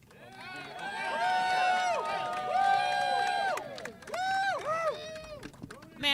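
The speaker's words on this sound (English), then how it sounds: "Everyone, please give a big round of applause for" Crowd of carpenters at a tax fraud day-of-action rally erupts in loud whooping cheers and yells, rising and falling voices over lighter clapping, with a few strong shouts near the end.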